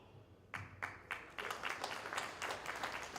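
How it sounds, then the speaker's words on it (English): Audience applause breaks out after a fundraising pledge announcement, a loose patter of claps starting with a few sharp hands and swelling into steady clapping from a modest crowd at moderate distance. "hold your applause"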